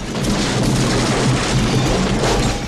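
A CGI house explosion in a film rumbles as a loud, continuous low boom, like distant thunder, rolling without pause and with no voices over it.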